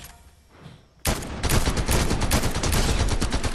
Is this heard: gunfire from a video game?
yes